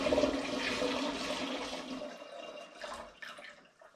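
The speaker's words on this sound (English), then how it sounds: "So I'm going to now pour this into the fermentation vessel." Dissolved brewing sugar solution poured from a container into a fermentation vessel for coconut sparkling wine, a loud close gush of liquid that thins and trails off into splashes.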